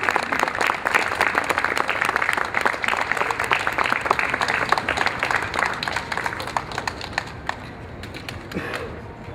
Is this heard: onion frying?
no